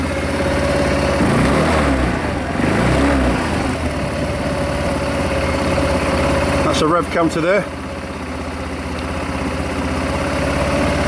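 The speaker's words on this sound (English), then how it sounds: "So it's a very quiet engine." Linhai M150 utility quad bike engine idling steadily nearby, a smooth, fairly quiet hum that holds even throughout, with someone talking over it for much of the time.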